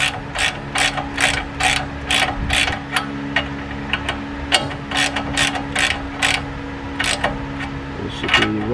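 A ratchet clicks in quick, repeated bursts while tightening the tie rod nut on a 1997-2002 Ford F-150, each stroke a sharp close metallic rattle, with brief pauses between bursts.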